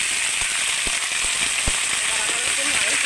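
Cut drumstick stems and potato pieces go into a frying pan of lightly browned mustard paste, setting off a steady close sizzle with scattered sharp crackles and pops.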